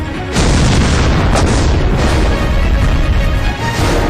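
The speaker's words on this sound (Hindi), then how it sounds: "क्योंकि यहाँ जमीन पर बिछी रहती है बारूदी सुरंग। एक कदम और फिर खत्म।" Landmine explosion on a jungle path where CRPF troops are operating in Chhattisgarh: a loud, sustained low boom and rumble that stays dense and heavy for about four seconds, with no voices.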